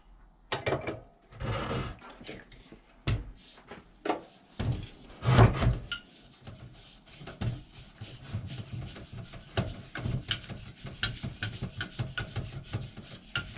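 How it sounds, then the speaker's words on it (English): A propane canister screwed onto the side of a portable camp stove, with rubbing metal-on-metal turns, knocks and clicks in uneven bursts up close, then a steadier gritty scraping of fine threads. "Propane screws onto the side here."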